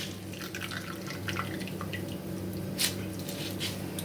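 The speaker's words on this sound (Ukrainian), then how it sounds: "Тепер беремо цю капусту отак, і гарно отжимаємо воду" Water drips and trickles close by, with a brief splash in the middle, as water is wrung out of soaked cabbage over a bowl for cabbage soup, no voices.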